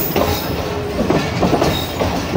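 The Allama Iqbal Express rolls along Pakistan's ML1 main line, its wheels clattering in a loud, steady rhythm with rumbling carriage noise and faint squeals close around.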